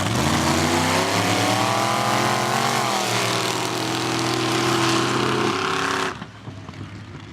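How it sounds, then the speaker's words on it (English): A 1968 Chevrolet El Camino race car engine revs loud and close at mud drags, a dense, sustained roar with shifting pitch that holds steady for about six seconds before cutting off abruptly into quieter background rumble. "Jesse, the Mad Boy Manu out of Merritt, BC, in that 68 El Camino."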